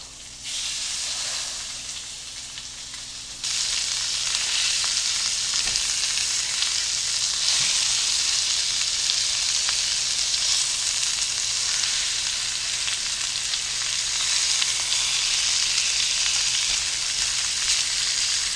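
Pork chops searing in a skillet, a loud continuous sizzle that jumps up in intensity partway through as the meat is turned, then crackles steadily on.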